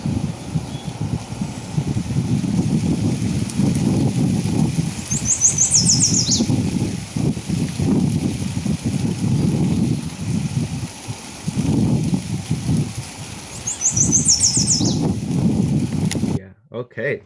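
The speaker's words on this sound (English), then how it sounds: "for the yellow warbler, it's described as sweet, sweet, sweet, sweet, I'm so sweet" Recorded yellow warbler song plays twice as a brief high, bright run of sweet whistled notes, faint against steady talk and room noise that fill the background throughout.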